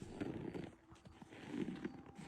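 A startled horse bolting away, quick irregular hoofbeats thudding on the ground, fairly faint and rough-sounding, with the pace surging toward the end.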